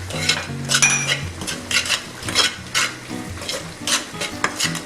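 Red chili powder and salt being stirred into frying onions, a loud close sizzle with repeated quick scraping strokes of a spoon against the pan and a low hum beneath.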